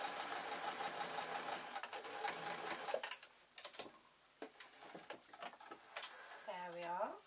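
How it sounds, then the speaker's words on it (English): Sewing machine stitching the back heel seam of a fleece bootie, a close whirring run of rapid stitching that stops, then a few short bursts and clicks, with a brief voice near the end. "I need to just run a couple of stitches along there"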